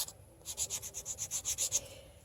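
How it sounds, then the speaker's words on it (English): A small nail file rasps across mat board in about a dozen quick, even strokes, a close, soft scratching rhythm with no talk over it. "I'm going to take my little expensive sanding tool here that is, of course, a nail file"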